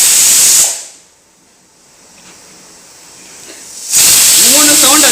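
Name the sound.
pressure cooker whistle while cooking kuthiraivali millet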